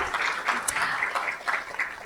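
Applause at a school board meeting, a moderate patter of clapping from a modest audience in a meeting room, continuous and without speech.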